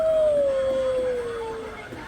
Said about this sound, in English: I actually have, I think, 5 of these posable skeleton wolves, and these guys like howl and the eyes light up